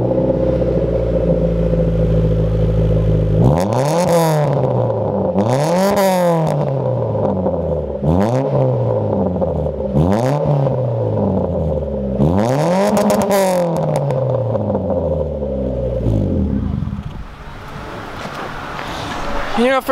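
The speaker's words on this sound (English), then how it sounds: "It sounds like a Honda, yeah." A front-wheel-drive automatic Honda car's engine idles, then revs loudly five times in rising and falling sweeps before settling back, all close by.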